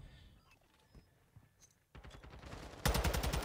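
Rapid automatic gunfire in a Call of Duty Modern Warfare 2 ranked Search and Destroy match starts as faint scattered shots. It builds into a loud, close, fast burst of rounds at the end, with no voices.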